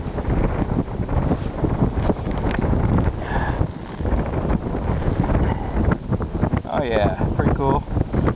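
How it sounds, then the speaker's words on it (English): Strong outdoor wind buffeting the microphone on a rockhounding outing, a constant loud low rumble and roar throughout, with faint voices briefly audible beneath it. "Sorry about the wind."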